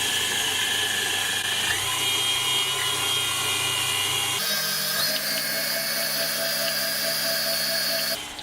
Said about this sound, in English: if you're using a stand mixer, I strongly believe that you always start off slow and then you can increase the pace gradually